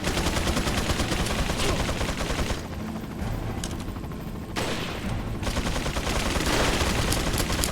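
Heavy gunfire in the video game Resident Evil 4, rapid bursts of loud shots filling most of the stretch, with a brief quieter gap in the middle before the firing resumes.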